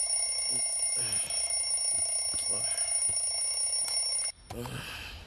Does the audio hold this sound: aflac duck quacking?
no